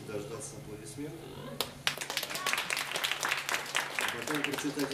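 An audience at a singing school concert breaks into applause, a scattered then building patter of many hands clapping close by, with voices talking over the start.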